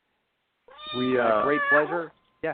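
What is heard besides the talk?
cat meowing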